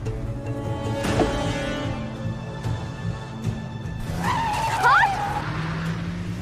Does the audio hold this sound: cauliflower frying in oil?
no